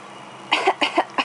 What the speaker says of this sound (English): Are you done coughing now?